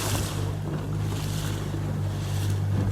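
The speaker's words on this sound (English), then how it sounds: "Captain Rob is driving while I film." A boat runs half a mile offshore near Pawleys Island, South Carolina. A steady low engine drone sits under loud, constant rushing wind and the wash of waves against the hull.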